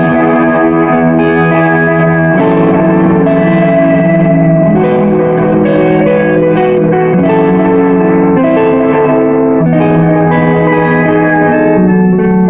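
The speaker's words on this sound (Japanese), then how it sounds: "こんな感じでディレイをつなげばもちろんディレイの音も鳴りますと" Electric guitar played through a Hotone Nano Legacy mini amp with a delay effect, sustained loud chords and notes ringing into repeating echoes throughout, with no talking.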